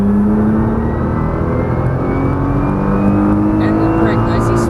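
A Nissan GT-R's engine pulls hard on a racetrack, a loud sustained roar with rising tones as the car accelerates, with a driving instructor talking over it.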